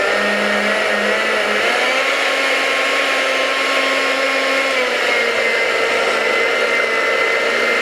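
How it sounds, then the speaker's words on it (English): A countertop blender whirs loudly and continuously, blending a walnut dressing with blue cheese, its motor pitch shifting slightly as the mixture thickens. "Make sure you put your little top on also. Let's blend that up."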